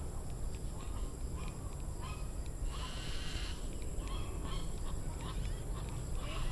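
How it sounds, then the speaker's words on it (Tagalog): Scattered bird calls ring out over a steady outdoor background hiss near a backyard with a large acacia tree, several overlapping voices calling at moderate distance and no talking. "Maraming mga ibon yan dito malapit sa likod bahay namin"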